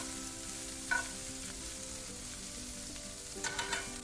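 Broccoli that was steamed beforehand hits a hot pan of oil and golden-browned garlic, giving a steady low sizzle and frying hiss, with a couple of brief stirring clatters near the start and end.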